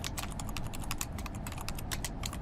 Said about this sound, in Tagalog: Tunog ng keyboard ko habang nagtatype